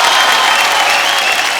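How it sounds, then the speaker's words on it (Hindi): Studio audience at a Delhi taping of a Hindi TV comedy show breaking into loud, dense applause that stays steady and sustained from start to finish, with no voices on top. "एक बार आप सबके लिए जोरदार तालियां हो जाए।"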